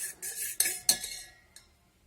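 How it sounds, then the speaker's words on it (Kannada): Spoon clinks and scrapes against a bowl while fried vegetables are mixed into beaten eggs for a vegetable omelette, a few sharp taps then a quieter stir, close and alone. "ಇದನ್ನು ಚೆನ್ನಾಗಿ ಮಿಕ್ಸ್ ಮಾಡ್ಕೋಬೇಕು."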